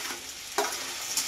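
Crabs dropped into a pan of hot oil after fried onions for crab chorchhori, a sudden burst of sizzle partway through that settles into steady frying, close by.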